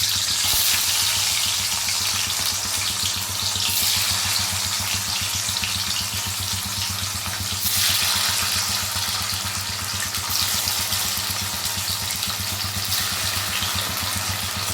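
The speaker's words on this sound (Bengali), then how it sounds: "পনিরটা একটু ভেজে নেব।" Paneer pieces fry in hot oil in a pan, giving a continuous loud hiss and crackle that holds steady throughout with slight surges and no talk.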